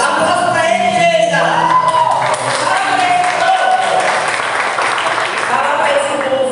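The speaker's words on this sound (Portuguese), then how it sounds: "Aplausos pra eles, gente." Loud, sustained applause with crowd cheers and whoops fills the whole stretch, greeting the performers of an Easter play staged in a church.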